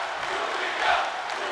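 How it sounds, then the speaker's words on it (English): Wrestling crowd in a Brooklyn arena cheering, a steady broadband roar of many voices at moderate level, swelling briefly in the middle before settling back to a sustained din. "This crowd in Brooklyn here letting Julia know that they love her."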